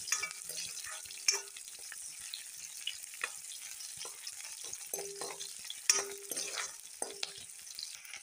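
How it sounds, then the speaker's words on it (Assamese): Onions and green chillies frying in a pan, a soft steady sizzle with occasional light scrapes and taps of a stirring spoon, fairly quiet and close. "পিঁয়াজ জলকীয়া অলপ ভাজি ল'ম"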